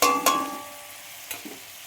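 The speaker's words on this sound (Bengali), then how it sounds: "দিয়ে আমি আদা রসুনের পেস্টটা দেবো" Ginger-garlic paste hits a hot pan and fries with two quick bursts of sizzle, then settles into a softer, steady crackle with a few light stirring scrapes.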